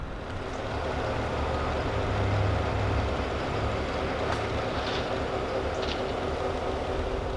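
A freight train rolls past somewhere in Southeast Michigan with a steady low rumble and rattle of railcars, fairly close and continuous, with a few faint squeals and clanks riding over the drone.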